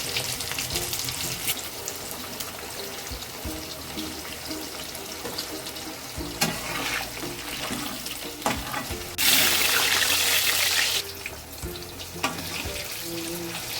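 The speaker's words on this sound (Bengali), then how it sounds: "তারপরে তেল গরম করে তাতে একে একে ভাজাভুজিগুলো কমপ্লিট করে নিই।" Vegetables fry in hot oil, a continuous loud sizzle with clattering and a brief rush of water-like noise in the middle, no talking.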